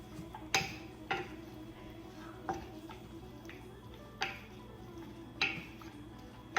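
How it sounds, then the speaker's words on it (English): A utensil scrapes and taps against a pan while dried cranberries are stirred into cooking vegetables over low heat, a few separate clinks spaced about a second apart over a quiet, steady hum. "add the dried cranberries to the vegetables. Stir that up."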